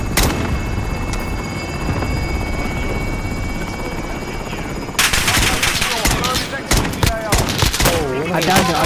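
SKS rifle fire in Call of Duty Warzone Plunder mode: sharp gunshots crack in irregular bursts over a constant helicopter drone and game noise, with players talking.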